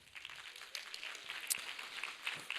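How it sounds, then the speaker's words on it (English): Applause from the audience at a high school winter concert, a faint, distant spatter of clapping from many hands in a hall. "Let's have another round of applause for Miss Day."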